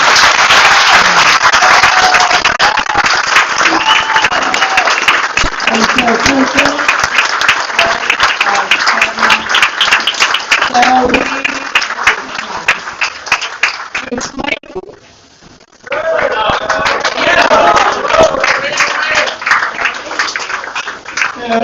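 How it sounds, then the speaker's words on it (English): A banquet crowd gives long, loud applause for the coaches of a state champion high school football team, dense clapping with scattered voices and cheers, dropping briefly near the end before swelling again. "let's give a round of applause to these amazing coaches"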